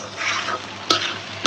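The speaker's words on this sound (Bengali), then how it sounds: "ডিম দিয়ে পুরোনো আলু ভাজা।" Old potatoes frying with egg in a pan in a small kitchen, a steady close sizzle with a spatula scraping and stirring twice, no voices.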